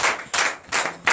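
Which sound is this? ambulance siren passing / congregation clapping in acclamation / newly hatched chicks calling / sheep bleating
congregation clapping in acclamation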